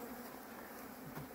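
Buckfast honey bees during a Texas raw honey harvest: a steady, dense swarm buzz that holds evenly throughout, fairly faint, with no talking over it.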